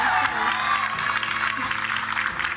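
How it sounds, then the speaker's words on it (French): Studio audience applauding a guitar solo on a French TV singing show, a short burst of clapping mixed with lingering music and a low instrumental tail underneath. "Applaudissements pour le solo de guitare"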